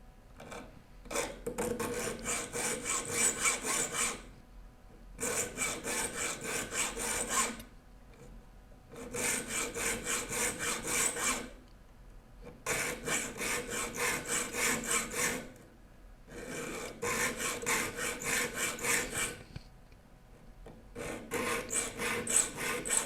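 Rasping file strokes sharpening the teeth of a rip saw, steady runs of rapid scraping about three to four seconds long separated by brief pauses, close and distinct with no talk.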